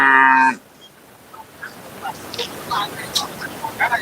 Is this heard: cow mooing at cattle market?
yes